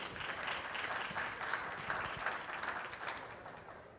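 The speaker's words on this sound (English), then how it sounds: "Another round of applause, please." Audience applause at a startup pitch day where entrepreneurs present to VC funders, steady clapping from a crowd heard fairly faintly and at a distance for several seconds.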